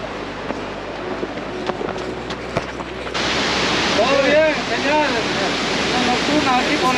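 Peguche waterfall roars at night during a trail run. A broad, steady rush of falling water rises sharply partway through, with voices nearby.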